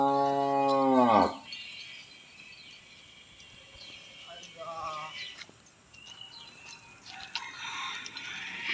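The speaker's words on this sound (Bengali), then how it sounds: "গাভীটা" A cow moos once, loud and close, a long drawn-out call that stops abruptly, followed by quieter farmyard sounds including faint bird calls on a cattle farm in Jessore.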